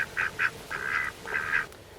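Two pet ducks, one yellow and one black, trade quiet, fast quacks in quick bursts, close and alone with no talk.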